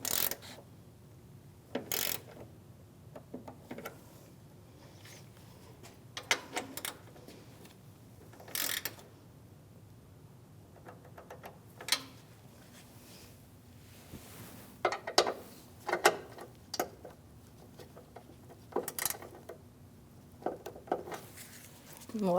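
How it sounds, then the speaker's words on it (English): A 7mm socket on a torque wrench tightening headlight mounting bolts on a 2016-2025 Chevrolet Malibu, giving close, intermittent bursts of ratcheting clicks separated by quiet pauses and small metallic handling noises. "So now with my 7mm socket, I'm going to torque all the mounting bolts that have a 7mm head bolt to 22"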